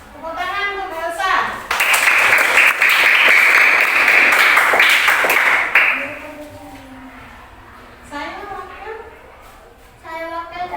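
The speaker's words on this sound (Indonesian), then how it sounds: "Tepuk tangan untuk Mbak Elsa." Applause from a classroom of students for a group presentation, a burst of clapping lasting about four seconds, with children's voices talking before and after.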